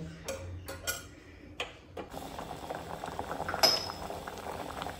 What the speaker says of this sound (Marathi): दाळीक न्ही आमच्या हांगासर बरो खतखतो येवपा लागला.